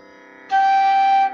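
A single bansuri bamboo flute note blown with a stronger breath, a breathy tone swelling in suddenly and holding steady for about a second before stopping.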